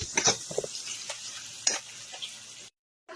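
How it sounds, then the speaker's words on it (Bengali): Spice masala being stirred and fried in a pan for a paneer dish: a steady sizzle with scraping spoon strokes against the pan, a few sharper clinks, then a brief silence before the sizzle returns. "আর এই মশলাটাকে কিন্তু আমি একটু ভালো মতন করে নাড়িয়ে চাড়িয়ে কিন্তু কষিয়ে নিব।"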